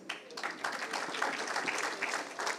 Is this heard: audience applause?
yes